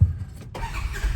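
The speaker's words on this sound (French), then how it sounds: "je vais te démarrer ça pour faire entendre le moteur" An engine turns over and catches on a vehicle whose motor sits at the rear, a brief low rumble right after a short squeal, then settling into a smooth running hum.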